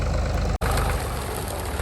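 Big four-wheel-drive farm tractor engine idling before pulling a small hay tedder, a loud, steady low rumble close by, broken by one brief dropout.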